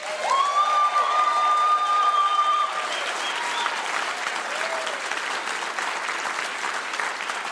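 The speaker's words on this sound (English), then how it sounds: "And can we give them another round of applause?" A live podcast audience in Boise claps and cheers in a steady, full burst. A held musical tone and a voice ring out at the start before the crowd noise carries on alone.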